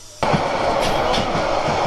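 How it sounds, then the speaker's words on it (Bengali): Cox's Bazar Express train passing close by at a railway crossing, a sudden loud onset of steady rumbling wheel noise with faint rhythmic clatter that fills the rest of the moment. "কক্সবাজার এক্সপ্রেস ট্রেন আসতেছে কক্সবাজার থেকে"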